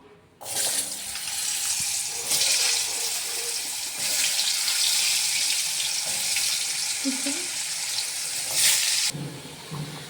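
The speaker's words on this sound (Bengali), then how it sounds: "তো সেই কারণেই তো দেখো এবার আমি আলুগুলোকে হালকা ভেজে নেব।" Potato pieces fry in hot oil with salt and turmeric, a steady, close, hissing sizzle running for several seconds, swelling and settling slightly as the pan is worked.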